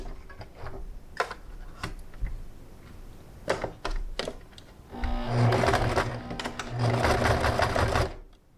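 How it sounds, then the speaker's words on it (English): Sewing machine stitching the side seams of a pleated fabric face mask, securing straps and pleats; scattered handling clicks, then two loud close bursts of steady whirring stitching, each lasting about a second or more. "put one last seam down each side. It's gonna sew both straps and all the pleats in place"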